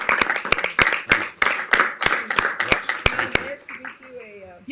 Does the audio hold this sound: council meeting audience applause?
yes